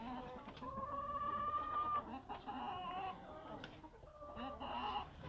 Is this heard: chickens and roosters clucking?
yes